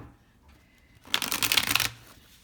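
A deck of cards shuffled close up in one quick riffle that lasts under a second of crisp flutter after a brief quiet lead-in, with no talk.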